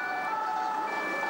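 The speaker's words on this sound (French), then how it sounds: "Les sirènes de police à proximité n'ont pas dissuadé ces migrants de forcer le passage vers" Police sirens near the Channel Tunnel at night, a steady high wailing tone that holds a sustained pitch, heard at moderate distance over a broad, even background roar.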